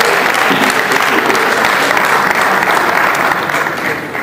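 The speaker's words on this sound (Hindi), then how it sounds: "तो बड़ी जोरदार तालियां" Loud audience applause at a stage event welcoming a guest, thick and sustained throughout before tapering slightly at the close.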